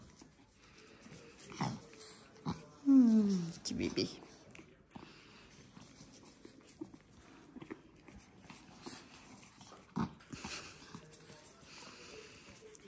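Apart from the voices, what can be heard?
Cavalier King Charles puppies whimpering and playing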